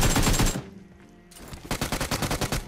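Rapid automatic gunfire in PUBG, a burst of dense shots, a short pause, then another fast rattling volley, loud and close with no talk.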